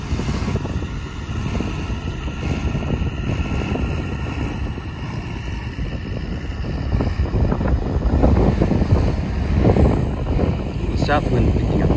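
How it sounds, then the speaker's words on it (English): A south wind picks up at a surf launch spot, making a steady, dense rush of wind noise across the microphone that swells a little louder toward the end. "The south wind picking up now."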